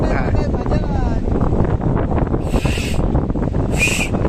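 Two short, shrill whistle blasts blown with a cowrie shell sound over a steady windy background at a bullock-cart race in Alibag, the second one sharper and louder.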